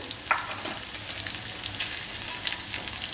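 Spices such as kasuri methi sautéing in a pan for a dhaba-style sev tomato curry make a close, steady sizzle and fry with occasional stirring scrapes and brief crackling bursts, no talking.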